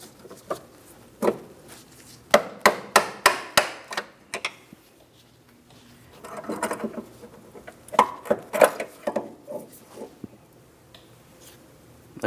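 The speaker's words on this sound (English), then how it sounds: "So for this metal clip, I'm just using some pliers." Pliers working a metal brake hose clip off a bracket on a 2003-2007 Cadillac CTS front brake line, with quick clicks and scraping metallic taps in clusters, close up, with occasional rattling as the clip shifts loose.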